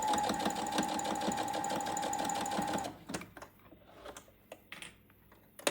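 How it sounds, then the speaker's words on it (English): A sewing machine runs in a fast, steady stitching rhythm for a few seconds, then stops, leaving scattered clicks and handling noises. "Then take this to the sewing machine and sew it at 1/2 inch."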